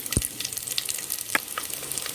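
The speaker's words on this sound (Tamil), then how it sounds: "இதை நல்லா வதக்கி விடுவோம்." Small shallots frying in a pan for a Sunday fish curry, a faint continuous sizzle with scattered light stirring scrapes and a sharp knock near the start, no talking.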